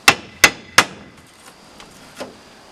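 Three sharp, loud wooden knocks in quick succession come from prying a thin tacked-on plywood back off old furniture, followed by a few fainter taps and creaks.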